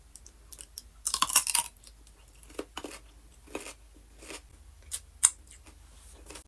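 Crisp bites into raw radish topped with cottage cheese and mustard: one loud crunchy bite, then softer scattered chews and mouth sounds, close up in a quiet room with no talking.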